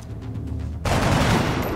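Soldiers firing weapons in the turn-based video game XCOM Long War; after a quiet low hum, a sudden burst of rapid gunfire erupts and rattles on loudly to the end.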